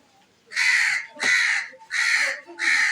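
Four loud, harsh crow caws ring out one after another in a steady rhythm, close by, with quiet gaps between them.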